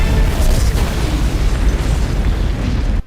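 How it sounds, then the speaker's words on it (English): A massive explosion from an action scene in the Black Widow superhero movie, a loud, dense, sustained roar of rumbling blasts and debris lasting about three seconds with no speech over it. "Yelena Belova gets caught in a massive explosion that was supposed to look tense and realistic"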